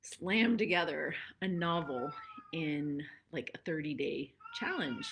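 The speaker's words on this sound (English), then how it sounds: "That's my cat." A male house cat meows during a live stream, its calls mixed in with steady nearby talking that runs through most of the clip.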